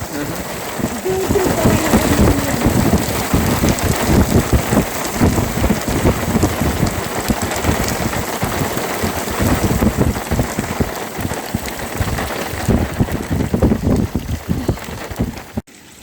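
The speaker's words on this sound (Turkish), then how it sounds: "Dolu atmaya başladı." Hail and rain fall hard on the Dikilitaş mountain plateau at about 2000 m near Minare summit, making a loud, dense patter of hits that keeps up for the whole stretch.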